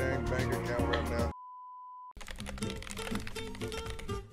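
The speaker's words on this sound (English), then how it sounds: "Do you know I type with my nails?" Quick, light clicky typing on a keyboard with fingernails follows a short steady beep, with tonal background sound before it.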